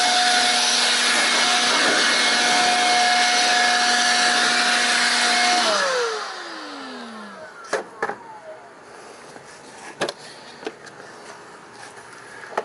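Loud broadband air blower with a steady whine blasts debris from beneath the seat of a MASSFX AT231110 lawn mower for about six seconds, then winds down, leaving scattered clicks and knocks.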